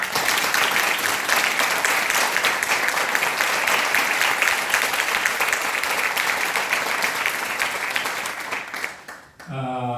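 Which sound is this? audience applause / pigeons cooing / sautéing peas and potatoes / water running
audience applause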